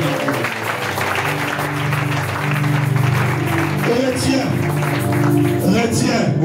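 A church congregation claps together in praise of the Lord, steady rhythmic clapping woven into sustained singing and music filling a worship hall.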